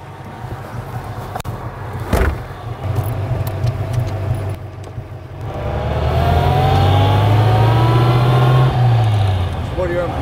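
A 1938 Bugatti Type 57 driving, its engine a low steady drone that swells louder midway as the car accelerates, with a sharp knock early on and talk over it.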